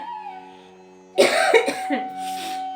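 A person with a cold coughs several times in a quick harsh burst after a quiet, tonal stretch, close and fairly loud.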